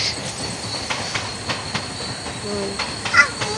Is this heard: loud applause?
no